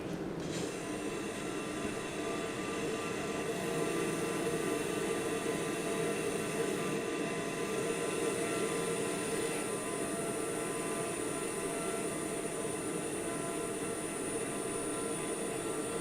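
A TBM 930 turboprop in Microsoft Flight Simulator cruises with a steady, loud engine drone and a constant high whine, unchanging over the whole stretch, with no voices.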